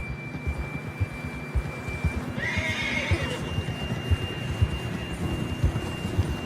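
A horse in the Red Dead Redemption 2 video game gives one loud, close whinny in the middle, over steady hoof clip-clop, game ambience and a thin tone.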